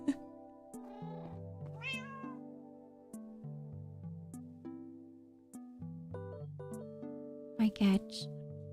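Cats meowing in the Minecraft video game, a few short meows rising above steady game music, with a louder pair of meows near the end.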